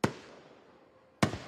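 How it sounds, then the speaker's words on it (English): Two sharp firework bangs go off about a second apart around the July 4th holiday in Snohomish County, each a crisp loud crack with a brief fading tail. "officials in Snohomish County are warning about setting off fireworks where it's illegal"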